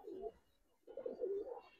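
A cream-eyed Bagha pigeon coos in two soft, low rolling phrases separated by a brief pause, close but faint against a quiet background.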